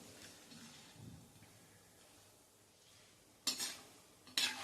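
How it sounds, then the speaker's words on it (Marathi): Grated coconut frying in oil in a pan over a low flame, stirred steadily with a spoon: a faint, soft scraping and low sizzle throughout, then two brief, sharper metallic scrapes near the end. "खोबरं तळायला तर अजिबात वेळ लागत नाही, खोबरं पटकन करपतं, त्यामुळे सतत हलवत"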